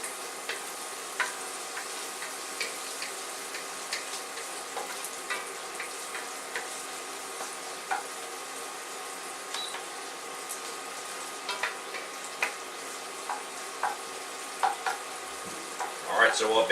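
Bacon frying in a soup pot for corn chowder gives a steady, close sizzle and crackle, with regular light ticks and scrapes from stirring and a louder clatter at the end.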